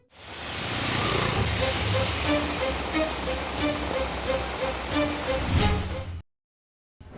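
Heavy rain pouring down in a steady, dense wash that stays loud for about six seconds before cutting off abruptly.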